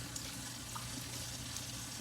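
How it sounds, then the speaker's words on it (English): Hot water runs steadily from a kitchen tap, a continuous soft rushing stream that is close and fairly quiet, with no talking over it. "Come on, hot water."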